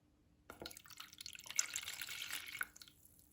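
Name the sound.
water poured from a small container into a big one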